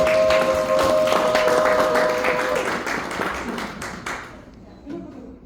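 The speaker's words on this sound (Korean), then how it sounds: "오늘 이 자리에 어렵게 모신 여섯 분께 박수 한번 드리고 시작하겠습니다" A crowd at a youth political talk event claps for six invited panelists, a full sustained round that gradually thins and fades out, close and loud with a faint tone underneath early on.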